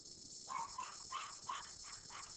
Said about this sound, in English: my dog is freaking out right now because my family left to go on a walk without him